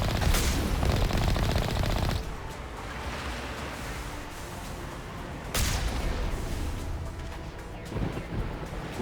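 Booming artillery fire with rolling rumbles in Mass Effect on the planet Virmire, a heavy, sustained barrage that surges loudly at the start, drops back to a continuous roar, then swells again midway with dense crackling blasts.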